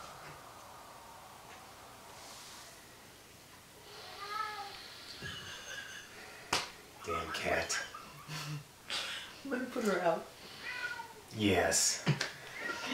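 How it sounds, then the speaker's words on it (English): A house cat meows repeatedly to be let in, a series of close, drawn-out cries near the middle and end, with a brief spoken word and some breathing nearby. "There's going to be a slight delay because the cat is wanting to come in."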